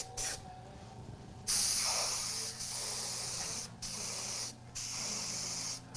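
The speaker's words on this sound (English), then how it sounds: "it's really not an airbrush, it's an air sprayer" An air sprayer sprays paint onto an abstract painting, giving close, hissing bursts of air that start and stop several times with short pauses between them.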